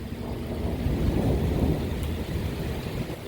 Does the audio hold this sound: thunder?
yes